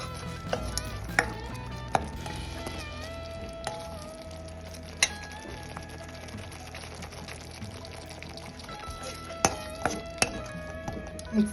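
A ginger and shallot mixture is stirred in a pan, giving scraping, clinking strokes with a few sharp knocks, steady and close, over a low continuous background and no talk.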